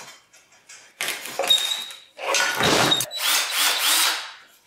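A power drill bores into bushings on an abandoned Tri-Five Chevy, several loud whining bursts separated by brief pauses, with grinding and rattling as the bit bites into the metal.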